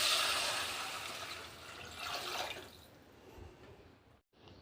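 Water poured from a glass into a pot of rice on the stove, a steady gushing pour that fades out near the end with no talk over it.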